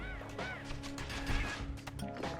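A bird honks and squawks repeatedly amid a busy, loud soundscape with thuds and crashes in the video game Bastion.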